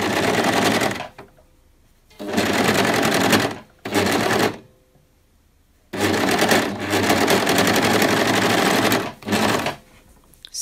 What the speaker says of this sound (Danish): Så de skal lige sy sammen her i siden.